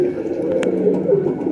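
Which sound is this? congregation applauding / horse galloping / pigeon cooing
pigeon cooing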